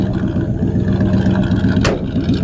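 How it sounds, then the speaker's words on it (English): Loud, steady engine exhaust from a 1953 Chevy 3100 five-window pickup running likely straight pipes, a low rumbling drone that holds close and constant throughout, with a brief hiss near the end. "Really nice sounding exhaust."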